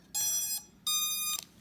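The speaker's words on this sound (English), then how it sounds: "when you push it all the way in, you'll hear it beep" Two short electronic beeps from a Potensic D80 drone as its battery locks into place, each a bright tonal chirp lasting about half a second with a brief gap between, close and clear with no talking.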